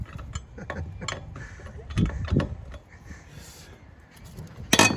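A wrench ratchets and clicks in short bursts while loosening lug nuts on a car wheel, close up and moderately loud, with brief pauses between turns.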